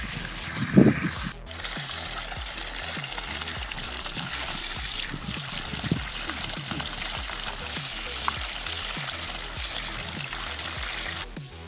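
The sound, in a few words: water flowing from soft flow hose nozzle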